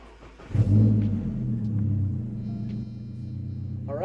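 A Nissan KA24ET engine cranks briefly and catches, settling into a steady low rumbling idle that carries on close and fairly loud with no voices.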